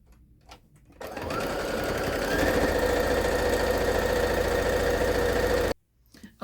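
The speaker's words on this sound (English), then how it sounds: "I'm going to top stitch right here. So I'm going to pull both sides tight and then just sew either 1/4 of an inch or 1/8 of an inch all the way around" A sewing machine top-stitches around a flour sack tea towel, a steady loud motor whir with rapid needle clatter running continuously for several seconds, rising slightly in pitch partway through, then stopping abruptly.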